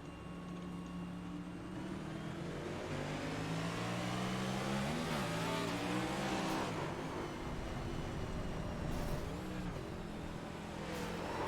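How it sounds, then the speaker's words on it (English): Sim racing Next Gen Cup Series race car at Rockingham Speedway, engine revving loud and steady with a rhythmic rise and fall of throttle, continuous tire and road roar underneath, no talking. "Listen to the throttle rhythm and listen to his tires."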